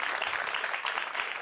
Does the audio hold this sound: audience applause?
yes